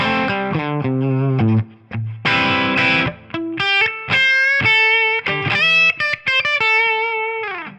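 An overdriven electric guitar played through a Tonex pedal into a Celestion G12 T75 speaker, loud and close, with chugging chords followed by ringing sustained notes and short phrases, no voice.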